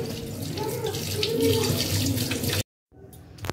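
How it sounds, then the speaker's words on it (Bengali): Tap water runs steadily into a sink while an egg is rinsed under it, a close, constant splashing rush that cuts off abruptly, then resumes faintly after a brief silence. "ডিমটা একটু ধুয়ে নিই"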